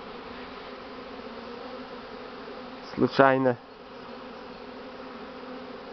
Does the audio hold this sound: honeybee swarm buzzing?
yes